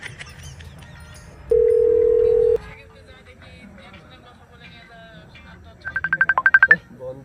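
A mobile phone sounds one steady beep lasting about a second, then after a pause a quick run of about nine keypad dialing tones, over a low background murmur.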